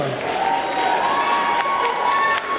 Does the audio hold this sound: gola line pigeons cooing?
no